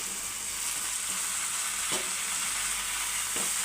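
Boiled prawns are stirred into a hot prawn curry pan, producing a steady, hissing sizzle close up, with a couple of soft scraping strokes from the stirring.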